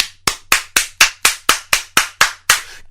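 Hands clap in a steady, even rhythm, about eleven sharp, loud claps spaced roughly a quarter second apart, close and alone.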